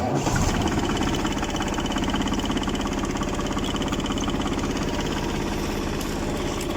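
A tractor engine runs steadily at close range, a loud, even chugging idle with a dense rhythmic knock that continues without pause and no voices over it.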